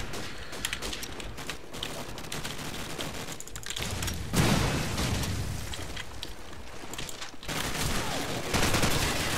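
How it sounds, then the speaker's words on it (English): Bursts of gunfire and a grenade blast in the Call of Duty 4 shooter, dense crackling shots and booms layered throughout, loud and chaotic. "Teammate's grenade landing on me."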